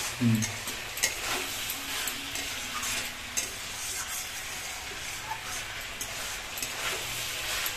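Kohlrabi cooked for a fish curry is stirred and sautéed in a pan, producing a moderate sizzle with repeated scraping and clattering strokes; a faint voice murmurs briefly at the start.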